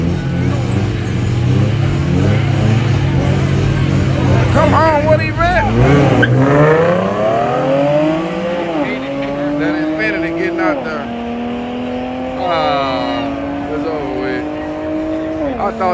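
A Mazda Miata race car revs and accelerates hard in a grudge race, its engine note climbing through several gear changes with a tire squeal, while people talk loudly over the engine.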